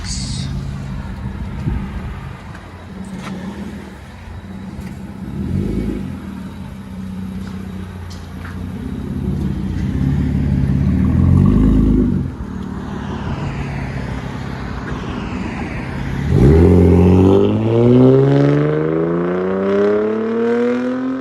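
A 2002 Toyota Camry V6 straight-pipe exhaust drones and rumbles loudly, then the engine revs up sharply with rising pitch near the end; the sound is close and continuous.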